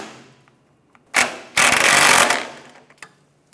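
Power tool driving a bolt home on a 1996-2002 Toyota 4Runner fuel pump strap, a short buzzing burst followed by a longer loud rattling whir, close up with quiet gaps around it.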